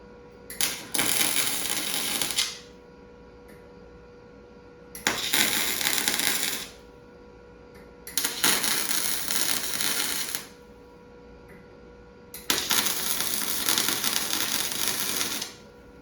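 A MIG welder lays tack welds on pipe for a V8 go-kart frame, in four separate bursts of close, crackling, hissing buzz, with quiet pauses between them.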